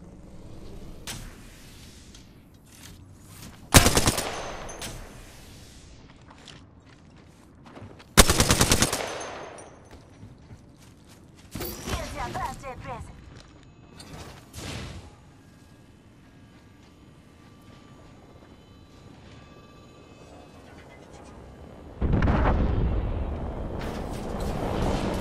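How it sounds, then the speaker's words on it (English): Apex Legends combat bursts out in loud, sharp volleys of gunfire and booming blasts, separated by quieter gaps, with heavy firing returning near the end. "Listen up, I'm getting shot at."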